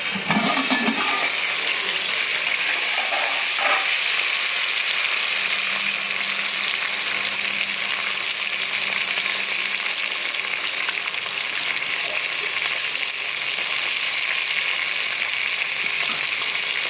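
Onions frying in hot tempering oil in a pan, a loud, steady hiss and crackle that carries on without pause, close by and with no talking.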